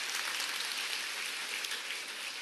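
Steady, dense applause from an audience at a business success-story talk, a soft, even wash of many hands clapping throughout, fairly distant with no voices.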